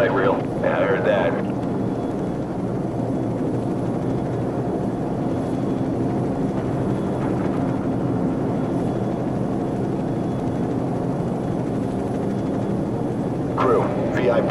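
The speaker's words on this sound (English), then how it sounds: "We're moving towards the helicopters now." A steady, droning helicopter rotor hum in the video game Call of Duty: Modern Warfare fills the scene continuously, with brief voices breaking in at the start and near the end.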